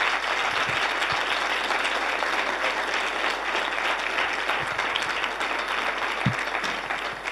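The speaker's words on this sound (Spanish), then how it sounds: "primero yo os pido un aplauso para las 4 buenas prácticas" Audience applause at an academic colloquium, sustained and steady with a few louder individual claps standing out.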